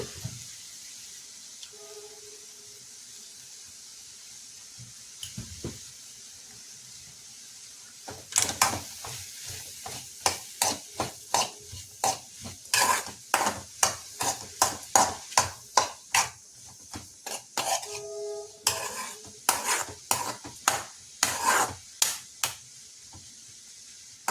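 Someone stirs a salted mixture in a pot, making a long run of quick, sharp clinks and scrapes that start after a quiet opening and go on steadily. The sounds are close, with no voices.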